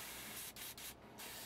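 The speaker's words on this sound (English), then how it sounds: "we need to spray through, okay, because we're always going to have paint in the needle end" An airbrush sprays dark paint through the needle end onto a 1/48 scale Junkers Ju 88 A-4 model kit, a soft continuous hiss with brief stops, close and faint.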